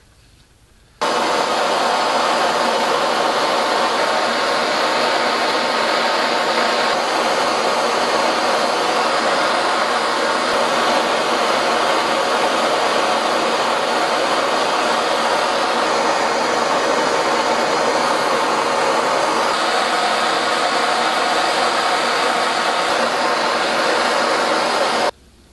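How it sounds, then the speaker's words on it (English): A torch roars loudly and constantly while heating a Napoleonic cannon barrel resting on blocks for brazing, starting abruptly and holding a steady rushing hiss to the end. "I'm going to put it all at risk by brazing all those parts on."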